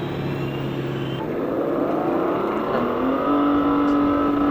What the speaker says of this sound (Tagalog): Naka full throttle ako, ang tunog niya oh.